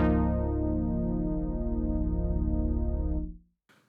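Crumar BIT01 synthesizer with its voices split across the stereo outputs, one sustained rich chord with a slowly shifting, phasing shimmer, loud and close, then cut off just before a short noisy click.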